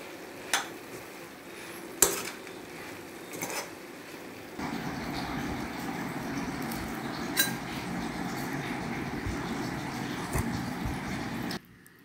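Boondi laddu mixture with ghee and raw camphor being stirred in a metal pan, a few sharp spoon knocks early, then a steady scraping, sizzling texture that carries on until an abrupt stop.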